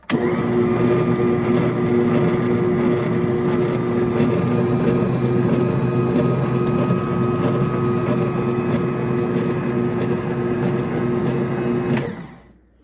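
An electric kitchen mixer whirring on its lowest setting, a loud steady motor drone with a constant tonal hum, running alone for about twelve seconds before cutting off.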